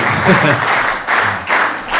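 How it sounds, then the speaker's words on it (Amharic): Audience applause at the Addis Ababa Tourism Commission forum as an award goes to a company representative: dense, steady clapping from a large crowd that fills the room throughout, swelling and dipping slightly in waves. "አረ በደንብ አጨብጭቡላቸው"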